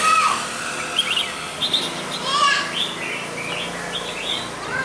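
A caged red-whiskered bulbul sings bright, chirpy whistled phrases in repeated short bursts over a steady background hiss, close and clear.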